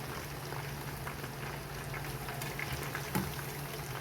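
Chicken chops in their second frying in a pan of hot oil, giving a steady, dense sizzle and bubbling close by, with a faint low hum beneath and a small clink near the end.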